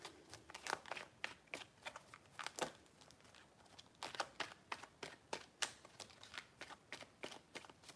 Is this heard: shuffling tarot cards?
yes